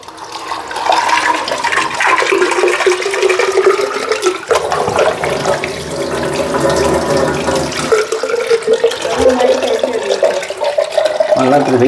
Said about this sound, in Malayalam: അപ്പം ഞാനിതൊന്ന് കഴുകാൻ വേണ്ടി പോവുകയാണ്.